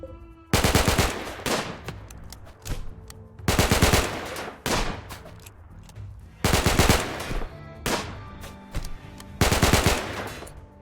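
Repeated bursts of automatic gunfire from a Rimworld colony battle, loud rapid volleys in four clusters separated by short pauses, with no talk over them.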